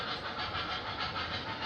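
An O scale model train runs on a home layout with a steady airy rushing hiss and a faint rhythmic rolling clatter, close and continuous, no speech.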